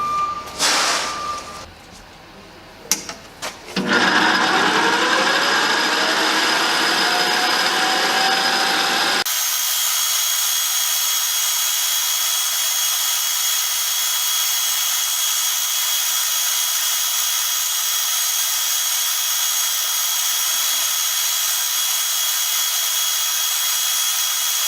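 Small stainless steel parts are polished with felt pads and polishing cream on a power tool, a loud steady high-pitched motor whir and rubbing hiss that starts after brief clatter and runs unbroken, with no talk.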